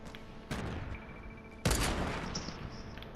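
Gunfire in the video game Fortnite, two sharp bursts of shots, the second louder and followed by a rattling tail, with no voices over it.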